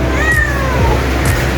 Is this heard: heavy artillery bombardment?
no